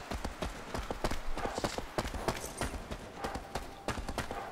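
Hooves of a horse galloping in the video game Shadow of the Colossus, a fast, steady clip-clop rhythm that stays close and fairly loud for the whole stretch.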